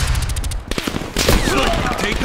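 Rapid automatic fire from the XM4 rifle in Black Ops Cold War, a loud close burst of quick shots followed by continued game noise and clatter.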